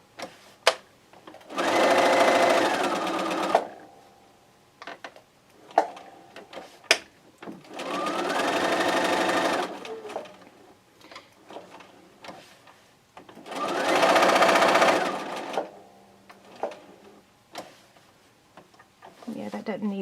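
Sewing machine chain stitching quilt squares for a raw-edge square quilt, running in three loud sustained bursts of rapid stitching, with brief clicks and handling noises between runs.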